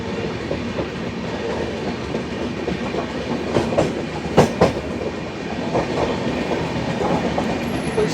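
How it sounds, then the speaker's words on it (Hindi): A Humsafar Express running through Sahibabad railway station while overtaking another train: steady rumbling rail noise with clattering wheel beats and a few sharp clanks near the middle, loud and close, with no voices. "हम लोग किसी ट्रेन को ओवरटेक मार रहे हैं"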